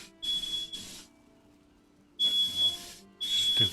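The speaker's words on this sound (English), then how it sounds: "stupid fire alarm" A fire alarm sounds in loud, shrill bursts: two short blasts, a pause of near silence, then two more long blasts, with no talking over it.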